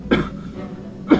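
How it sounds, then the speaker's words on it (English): Two short, dry coughs about a second apart, close and fairly loud, with quiet in between. "The first of which is coughing."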